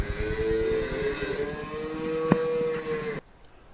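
A single long, low cow moo sounds close by on a farm at night, holding steady for about three seconds before cutting off into quiet.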